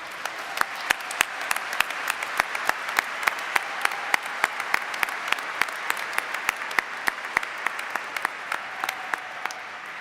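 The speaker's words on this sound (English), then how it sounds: "How about a round of applause?" Graduates and guests at a college commencement applauding, a steady roomy wash of clapping with sharp individual claps standing out, no talk over it.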